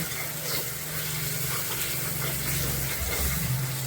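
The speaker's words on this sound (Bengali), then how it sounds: "দিয়ে এখন সব মশলাটা ভালো করে কষাবো" Ground spices and chopped tomato being fried in a pan for chicken curry, a steady close sizzle with low bubbling underneath, continuous throughout without talk.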